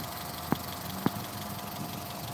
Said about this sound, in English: That's just the engine vibrating